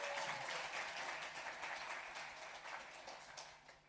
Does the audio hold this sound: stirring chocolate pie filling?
no